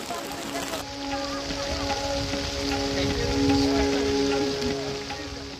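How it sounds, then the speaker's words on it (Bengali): Steady rain falls at Bichanakandi, a continuous broad hiss that swells slightly in the middle, with a low boat-like hum underneath. "কিন্তু বৃষ্টির তেজ কমে আসলেও অঝোর ধারায় তখনও ঝরছে।"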